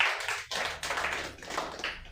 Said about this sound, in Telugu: గట్టిగా చప్పట్లు కొట్టి ప్రభు నామాన్ని మహింపడదాం